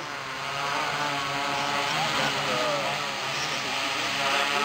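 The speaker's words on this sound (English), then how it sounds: "It's a quadcopter, tricopter day. It's multi-copter madness." RC quadcopter propellers buzzing in flight, a steady high droning whine that holds close and fairly loud throughout.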